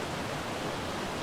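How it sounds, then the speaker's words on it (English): In Ark: Survival Evolved, water rushes without pause near a base, an even broadband roar like a close stream or small waterfall, with no voices or other sounds over it. "the only problem was this constant running water noise"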